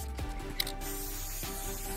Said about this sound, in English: I spray painted all the unpainted surfaces of the cabinet parts